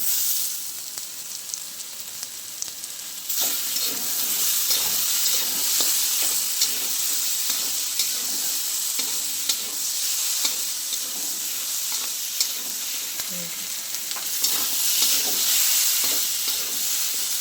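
Food seasoned with salt and sugar frying in a pan gives a continuous sizzle, broken by repeated scraping stir strokes, with no talking.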